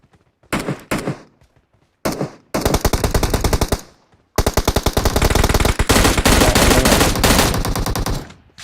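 Automatic weapon fire in the mobile battle royale game PUBG Mobile: several loud, rapid bursts of gunshots, short volleys at first and then long sustained strings, separated by brief silences.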